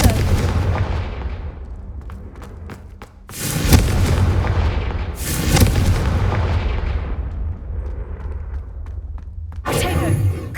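Confringo fire spell explosions in Hogwarts Legacy: several loud booming blasts burst at intervals, each decaying into a low rumble before the next, with a final sharp burst at the end.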